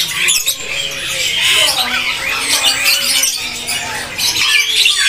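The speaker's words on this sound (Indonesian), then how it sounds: "Dari burung puter telung sepasangnya, teman-teman." A pair of spotted doves in a bird-market kiosk, heard among loud, dense chirping and squawking from many caged birds, close and continuous, with a voice faintly mixed in.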